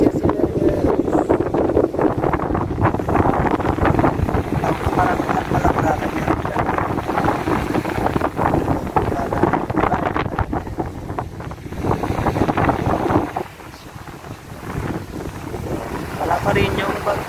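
Strong wind and waves on a boat at sea during island hopping at Caramoan, with heavy wind buffeting the microphone, rushing water and a rumbling hull, loud and continuous, easing briefly near the end.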